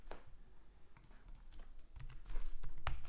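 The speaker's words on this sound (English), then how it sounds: "Now I can test this by typing python main.py" Someone types a short command on a computer keyboard while testing a FastAPI backend, producing a quiet burst of irregular clicking keystrokes up close, with a heavier key press near the end and no talking.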